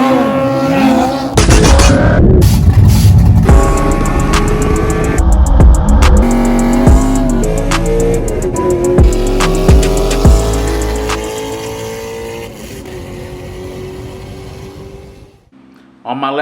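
A ProCharged Corvette C6 Z06 engine idles loud and close with a choppy, lumpy cam rhythm, breaking into a few sharp revs before dropping away near the end.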